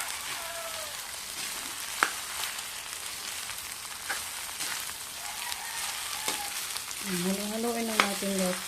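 Three eggs sizzle steadily in a pan as they are stirred into fried rice, a continuous crackling fry broken by occasional sharp scrapes and knocks of the utensil, with a brief voice near the end.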